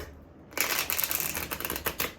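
Tarot cards being shuffled, a quiet pause then a fast run of crisp riffling flutters with sharp snaps, close and alone with no talk.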